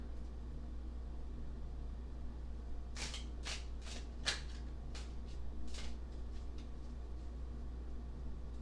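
Tarot cards are shuffled and flicked onto a table in a quick burst of crisp riffling slaps, faint against a steady low hum, with no speech.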